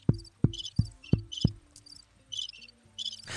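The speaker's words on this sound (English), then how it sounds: "Where's the crickets when you need them?" Crickets chirp in high trilling bursts, preceded by five sharp low thumps in steady succession, with the chirping continuing alone afterward at a moderate level.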